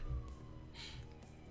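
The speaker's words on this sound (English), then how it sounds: "Ooh, I hear an ambulance." Ambulance siren wailing at a distance, a faint rising-and-falling tone under low rumbling background noise.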